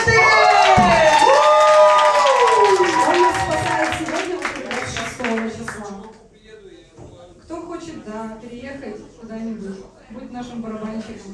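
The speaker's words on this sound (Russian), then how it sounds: "аплодисменты!" Loud cheering, whooping and shrill shouting mixed with clapping from a concert audience fill the first half, then fade as people begin talking over a quieter room.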